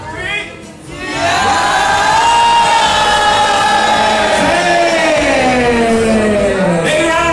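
Wedding guests cheer and shout together in a loud, sustained crowd roar that swells after a brief quieter start and holds steady to the end, with voices whooping through it.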